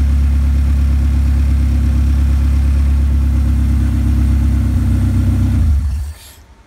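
A cheap project car's engine runs steadily at idle with a loud, deep rumble throughout, then cuts off near the end, leaving near silence.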